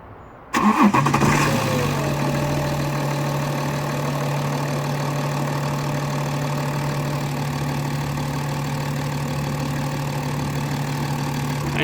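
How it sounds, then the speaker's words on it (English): A BMW E90 330d diesel engine with a rough cold start cranks and catches after a brief pause, then settles into a steady, loud idle with a low rumble and constant hum, running poorly. "So I'm just going to start the engine, see how it runs,"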